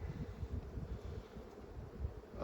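Low, steady droning hum of many honeybees inside an opened backyard hive during a frame inspection, a dense buzzing texture with faint outdoor air noise and no talk.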